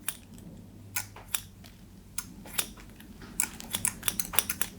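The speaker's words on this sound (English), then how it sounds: "very classic scissor over comb, getting closer and closer" Scissors snip hair over a comb for a short, choppy men's haircut, sounding as crisp close clicks spaced out at first and then coming in a quicker run of snips.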